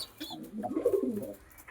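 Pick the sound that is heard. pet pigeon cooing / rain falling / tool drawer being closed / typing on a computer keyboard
pet pigeon cooing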